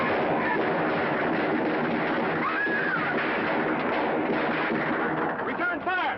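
Gunfire in a 1950s film shootout, a dense unbroken barrage of loud shots and blasts with a few ricochet-like whines, the whole clip heavy with steady combat noise.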